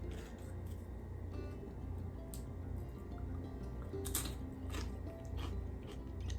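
Someone bites and chews a forkful of cheesy, creamy shredded Mexican crockpot chicken made with quesadilla cheese and cream cheese, with soft, close mouth sounds and faint crunches over a quiet room hum.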